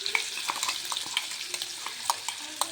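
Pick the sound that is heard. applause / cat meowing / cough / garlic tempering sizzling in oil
garlic tempering sizzling in oil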